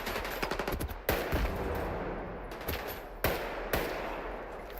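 The Chornobyl gun fires in S.T.A.L.K.E.R. 2 as a few loud, sharp, booming shots spaced about a second apart, each with a short ringing tail, over a low background with no talk.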